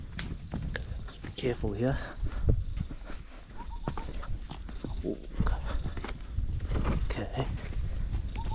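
Horse hooves plodding along a park trail near Plettenberg Bay, South Africa, a loose, irregular clip-clop close by, heard under a rider's casual talk.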